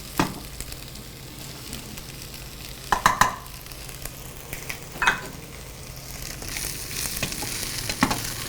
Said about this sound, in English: Get that good sizzle sound going on there, Eric.